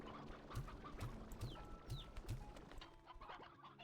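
Chickens clucking in the video game Slime Rancher 2, a run of short low clucks roughly every half second over a busy game soundscape, moderately faint.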